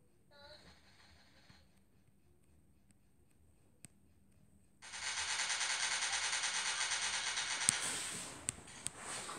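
A rapid burst of automatic gunfire from the video game MilkChoco runs for several seconds at moderate volume, preceded by quieter game sounds and single sharp clicks.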